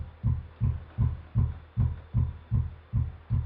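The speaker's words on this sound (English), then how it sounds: "Watch what happens when I electronically sum them the kick drum sound instead of the sine wave" A kick drum summed through four delayed subwoofers in a live sound setup thumps in a steady, deep, evenly spaced pulse, about two beats per second with no voices.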